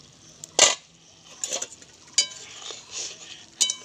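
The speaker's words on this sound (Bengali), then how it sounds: "5 মিনিট হয়ে গেছে, ঢাকনাটা তুলে দেখে নিই।" A metal lid lifted from a cooking pan of river chela fish curry clinks and scrapes in several short, sharp metallic knocks, close and fairly loud, spaced irregularly.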